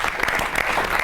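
A Holi festival comedy poetry audience claps to welcome a poet, a dense burst of applause close and loud throughout the brief moment.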